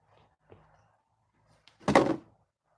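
A drawer in a home workshop full of tools slides and shuts with one broad scraping, rumbling burst about half a second long. A few faint knocks come just before it, and no one speaks.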